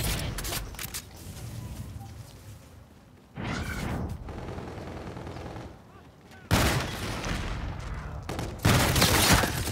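Hailstorm pistol fire in a shooter video game, coming as three separate loud bursts of rapid gunfire, each lasting a second or more, with quieter in-game ambience between them.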